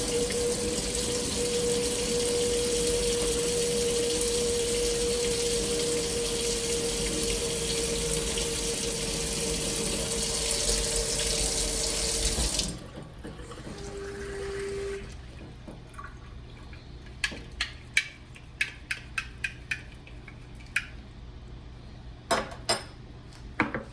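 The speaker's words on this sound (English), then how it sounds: "Hot tap water is good enough." Hot tap water runs steadily into a sink for about twelve seconds, then stops, leaving quiet clinks and knocks of dishes and utensils.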